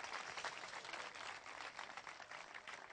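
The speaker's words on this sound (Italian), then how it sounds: "Grazie per l'applauso." Warm, sustained applause from a crowd at a kickboxing event, many hands clapping steadily at moderate loudness with no voices on top.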